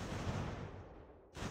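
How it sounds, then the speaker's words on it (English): Cannon fire in Ultimate General American Revolution, a Revolutionary War battle game, rolls as a dense, distant-sounding rumble of artillery and musketry that fades briefly before another burst. "Cannons, fire. Fire."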